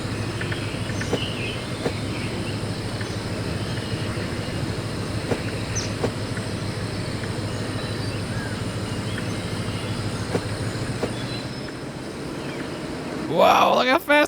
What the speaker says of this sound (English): I just want to watch a train.